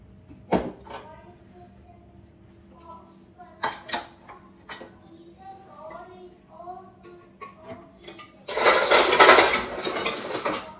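Dishes and cutlery clatter while food is packed into a lunch box in a home kitchen, with scattered clinks and knocks and a dense burst of scraping and rattling near the end.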